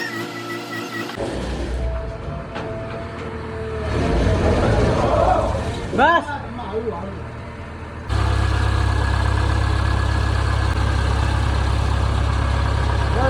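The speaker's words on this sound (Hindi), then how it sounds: "जेसीबी आने के बाद जेसीबी ने अपना काम शुरू कर दिया।" A JCB backhoe loader works at a generator loading point, its diesel engine idling and then revving into a loud, steady low drone, with occasional metallic clanks and a brief spoken word.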